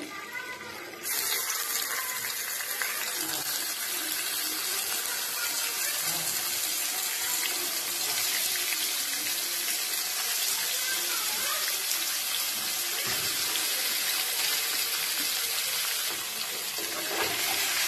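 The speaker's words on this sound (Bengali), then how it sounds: "তেলটা গরম হয়ে গেলে এর মধ্যে সয়াবিনগুলো দিয়ে দেব।" Soya chunks frying in hot oil in a pan: a loud, steady broadband sizzle that begins abruptly and continues unbroken, close up.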